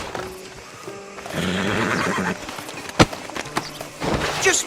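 Horse whinnying and clip-clopping in a Western open-world video game, a loud neigh rising amid hoof steps and game ambience, with a voice talking briefly.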